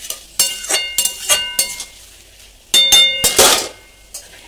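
A metal spoon clangs and scrapes repeatedly against a pan while spice masala is stirred and sautéed, giving sharp, close, irregular knocks with brief pauses and no talking.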